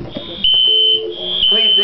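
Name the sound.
child imitating a fire alarm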